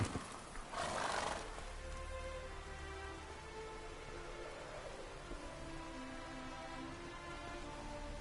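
Horse hooves clatter steadily along with a whinny early on, over a constant rain-like hiss in the background, during a horse race in The Witcher 3: Wild Hunt.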